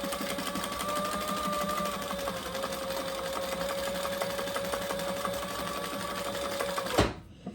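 A sewing machine back stitching a leather architect wallet runs steadily for about seven seconds as a close mechanical whir with a faint tone, then stops with a sharp clunk.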